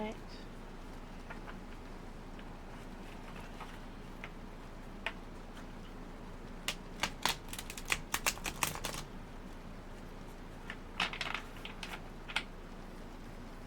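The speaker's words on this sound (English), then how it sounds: "I like these cards, they shuffle easily." Tarot cards riffled and shuffled by hand, with scattered soft clicks that turn into denser bursts of crisp card flutter near the middle and again toward the end, heard close under quiet room tone.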